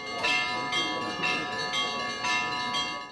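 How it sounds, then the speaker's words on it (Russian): Russian Orthodox church bells ring in a steady repeating pattern, several strikes with long resonant tails, moderately distant and alone. "Представителя Русской Православной Церкви встретили колокольным звоном"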